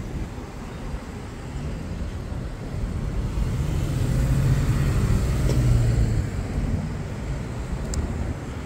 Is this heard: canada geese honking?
no